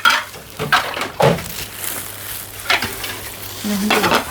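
Boiling water for pickling cucumbers bubbles and hisses close by, with a few sharp clatters of utensils against a pot.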